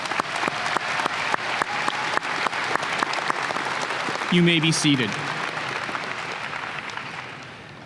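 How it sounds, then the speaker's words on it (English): A 2024 university commencement audience gives a round of applause: a sparse run of distinct claps that thins out as a speaker briefly addresses the crowd midway, then fades. "Please give them a round of applause."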